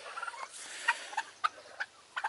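Turkeys let outdoors to forage for the first time give a scattering of short, bright peeps and chirps, spaced irregularly and fairly faint over a quiet background.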